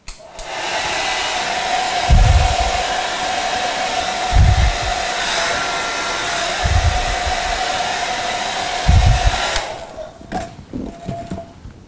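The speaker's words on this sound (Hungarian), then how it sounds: "hajszárítóval körbefújni őket" A hair dryer blows around pieces of slate rock set on sand, a loud continuous whine and rush of air with periodic low rumbling bursts as the airflow hits the surface, cutting off near the end.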